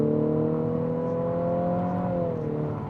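A 2023 Infiniti QX50 Sport AWD engine drones steadily up close as it accelerates, a smooth, humming exhaust note with a slight rise in pitch, no voices.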